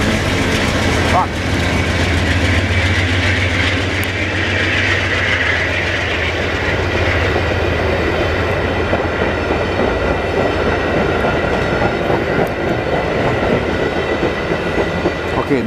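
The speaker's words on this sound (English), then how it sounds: "It looks like a BC Rail locomotive." A VIA Rail locomotive-hauled passenger train in Montreal rolls steadily past close by, a continuous rumble with rhythmic clacking of wheels over rail joints throughout, loud and sustained.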